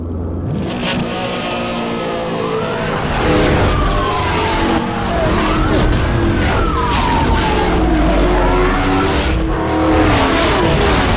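A Mercedes-Benz SL65 AMG Black Series races in the Need for Speed Hot Pursuit Remastered video game, its engine roaring loud and steady with rising and falling revs through gear changes, close up the whole time.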